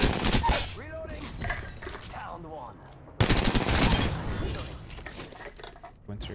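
R99 submachine gun fire in the Apex Legends video game, with rapid bursts and broadband crackle blended with dense game effects and voices speaking over it, then a sharper loud burst resuming midway.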